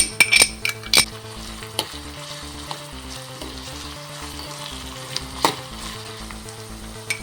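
Chopped ginger and onion sizzle in a frying pan, opening with sharp metallic clinks of a utensil against the pan, then a steady close hiss of frying with occasional scrapes and taps.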